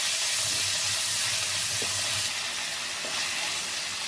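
Ginger and garlic paste sautéing in a pan for a paneer curry, giving a continuous loud hissing sizzle with a couple of faint stirring taps.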